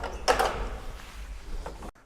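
A Finnish elevator's manual doors swing shut with a wooden clatter and short mechanical rattle near the start, a low hum running underneath, then a second faint knock before everything cuts to silence.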